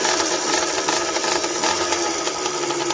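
A two-stroke motorized bicycle engine running on E85 fuel with its idle jet set fully rich drones close by in a steady, high, raspy buzz for the full few seconds, with no one talking.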